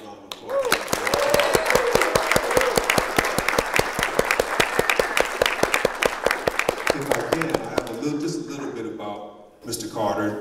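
Audience applause for a jazz bassist at a concert in Huntsville, with dense, close hand claps that stay loud for about eight seconds and then thin out, followed by a voice talking.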